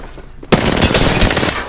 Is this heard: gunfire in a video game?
yes